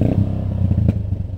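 A TVS Apache 160 2V motorcycle fitted with an Akrapovic exhaust runs close by, its engine giving a steady, loud, throbbing rumble with no break.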